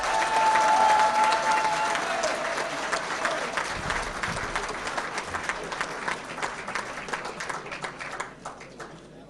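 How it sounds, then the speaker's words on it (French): A crowd at a Congolese gathering claps and cheers continuously, loud at first and slowly thinning toward the end, with a brief whistle-like tone early on. "Je demanderais même qu'on puisse acclamer tous les Congolais"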